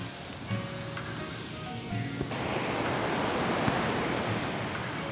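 Big ocean surf crashing on a beach in Japan, a continuous broad roar of breaking waves that swells louder partway through, with a few faint tonal sounds early on.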